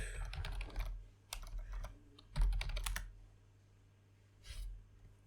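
Keys tapped on a computer keyboard while entering a short chat message, with two quick bursts of close, clicky typing separated by pauses and a brief flurry near the end.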